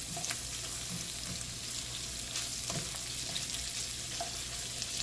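Shrimp fry in a pan for shrimp scampi, a loud, even sizzle with occasional small spits and clicks from the pan, no speech.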